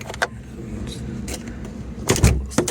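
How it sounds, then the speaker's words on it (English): Electric sunroof on a 1985 Toyota pickup closing, a short motor whir inside the cab ending in a couple of soft thuds. "Close the sunroof."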